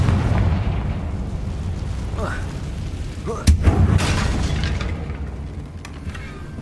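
A Confringo fire spell blasts a bridge in Hogwarts Legacy, landing as a sharp, booming explosion partway through over a low rumbling game backdrop, with a few whooshing spell swishes just before the hit.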